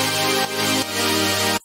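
A sustained, buzzing supersaw synth plays emotional future bass chords, changing chord twice in a choppy new rhythm before cutting off abruptly near the end, thick and loud with no voices.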